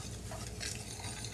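Onions sauteing in canola oil in a pan give a steady, soft sizzle that runs unbroken and fairly quiet, with no voices.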